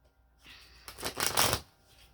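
Tarot cards are riffled close up, a brief soft flutter that swells into a louder, crisp papery rush and then stops, with no voices.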